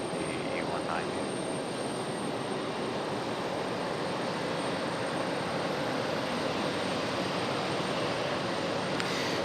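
A Boeing 737 MAX 9 jet airliner roars steadily overhead at an airport, a loud continuous broadband engine rumble and hiss that fills the whole stretch without easing.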